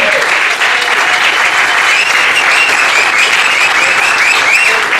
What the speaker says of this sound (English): Round of applause right now for Rick Bruner